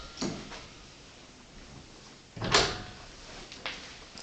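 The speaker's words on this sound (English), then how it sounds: "let me slide over and open the closet doors." Sliding closet doors in a cottage bedroom open with a few separate knocks and scrapes, one louder rolling bump in the middle and fainter clicks around it, close by in a quiet room.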